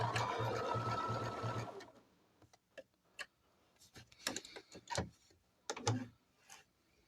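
A sewing machine stitching raw edge appliqué runs in a fast, even whir for about two seconds, then stops, followed by scattered soft clicks and handling taps.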